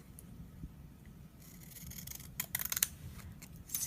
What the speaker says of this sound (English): I have these scissors. I like these scissors. They do the little scallopy edge.